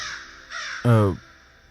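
A single crow gives one loud, harsh caw close by after a brief softer bird sound, set against quiet background ambience.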